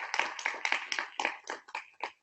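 Small audience applauding a speaker at an iOS developer meetup, a short burst of close, distinct hand claps that is brisk but sparse and thins out toward the end.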